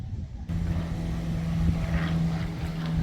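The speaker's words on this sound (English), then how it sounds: "There's a plane going overhead." Airplane passing overhead outdoors in a garden, a steady droning engine hum with a constant low tone, moderately loud and continuous.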